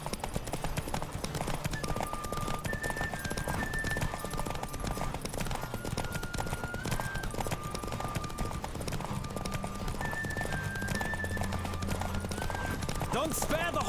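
Rapid hoofbeats of a galloping horse in The Witcher 3: Wild Hunt drum on continuously, with game music tones and faint background noise throughout.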